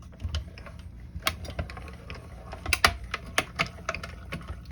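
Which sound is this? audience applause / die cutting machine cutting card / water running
die cutting machine cutting card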